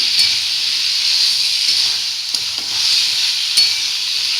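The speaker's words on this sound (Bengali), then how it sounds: "এই যে কষা চলছে এখন" Chicken keema with chickpeas and peas cooking down in a pan for ghugni, a loud continuous close hiss and sizzle with a few brief utensil scrapes and clicks, no talk.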